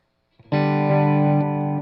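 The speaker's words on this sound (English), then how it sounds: "This sounds a lot more like a clean Fender." A clean-toned electric guitar chord rings out through a clean Fender Twin blackface amp tone in NI Guitar Rig, sustaining evenly with a light re-strum midway, no talking.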